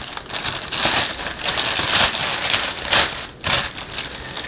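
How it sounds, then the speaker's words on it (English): Packaged Sygav 10.2 car radio unit for a Lancer, Ralliart or Evo X being unwrapped, a continuous loud crinkling and rustling of plastic wrap close up, with no talking. "Let me go ahead and unwrap this for you."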